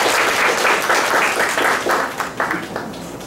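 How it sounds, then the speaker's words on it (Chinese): An audience applauds to welcome the evening's lecturer at a public architecture talk in Tainan, with dense, steady clapping from many hands that fades slightly toward the end. "咱咧用热烈掌声来欢迎咱今仔日的主讲者"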